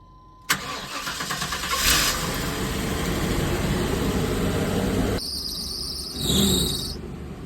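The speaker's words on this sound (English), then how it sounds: "It's kind of weird having a running engine inside of your home." The engine of a 1995 P30 Winnebago RV, with its doghouse cover off, running inside the cabin during a tune-up: it starts abruptly, then settles into a loud, steady close-up idle with a thin high whine above it.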